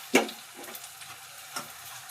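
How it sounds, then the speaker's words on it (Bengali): Ginger garlic paste frying with onions in a pan makes a soft, close sizzle, with a sharp clatter near the start and a few lighter stirring knocks afterward. "আমি এবার আদা রসুন যে পেস্টটা করেছিলাম সেই পেস্টটা আমি এবার পেঁয়াজের সঙ্গে মিশিয়ে এটাকে একটুখানি ভেজে নেব।"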